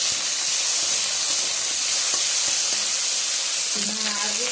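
Potatoes and greens fry in hot oil with salt and turmeric, giving a steady, loud sizzling hiss throughout, with a faint clink of utensils near the end.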